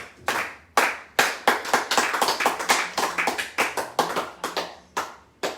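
A church congregation at prayer claps together in praise of God, sounding as a loud, fast run of rhythmic handclaps that is close and continuous, with occasional pauses between bursts.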